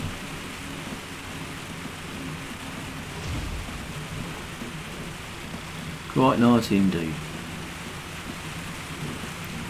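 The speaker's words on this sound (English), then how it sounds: "it's actually quite nice to be raining" Steady rain falls throughout, with a low thunder rumble in the background. A voice speaks briefly near the middle.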